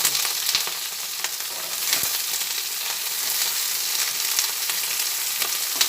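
Eggplant pieces fry in oil with two green chillies, giving a continuous close hiss and crackle at even loudness, broken now and then by faint stirring clicks.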